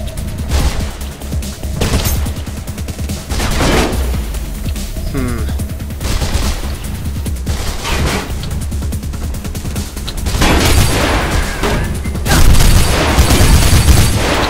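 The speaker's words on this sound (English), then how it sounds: "There's someone else shooting at me now." Gunfire in the video game Mirror's Edge, a dense fusillade of game shots and booms running throughout, growing louder and heavier near the end, with no talk over it.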